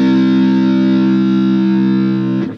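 A single sustained note on a heavily distorted electric guitar, the low sixth string tuned to C in drop C tuning, ringing loud and steady before being cut off with a brief scrape.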